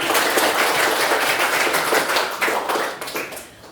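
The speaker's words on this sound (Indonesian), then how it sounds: "Tepuk tangan dulu buat anak-anak di sini" Children being applauded in a classroom or school gathering, a dense burst of clapping from a group that holds steady and then thins and fades toward the end.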